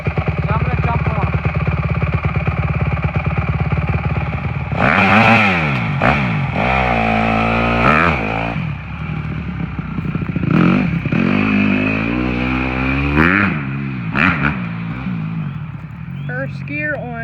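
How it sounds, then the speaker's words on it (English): A Honda CRF 150 RB dirt bike idles loudly close by, then revs repeatedly in first gear with rising and falling engine pitch as it pulls away and accelerates. "First gear on the CRF 150 RB."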